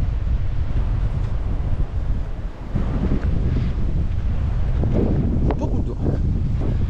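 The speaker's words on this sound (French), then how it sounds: "Il y a du vent." Strong wind on a mountain trail race buffets the microphone with heavy low rumbling gusts throughout, loud and close, while a voice speaks faintly beneath it.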